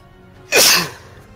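A single sharp sneeze bursts out close to the microphone during a tabletop role-playing game session, brief and loud against a quiet background.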